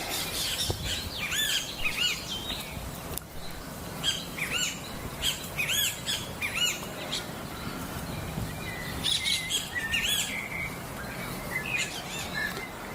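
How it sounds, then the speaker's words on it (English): Birds sing in a city park with repeated chirps and tweets, some near and some farther off, over a soft background hum, and no one talks. "I figured I might as well let the birds do the talking here."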